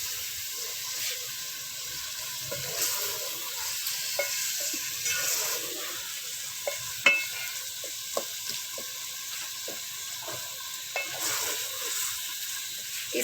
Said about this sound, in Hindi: इसकी अच्छी तरह भुनाई करनी है।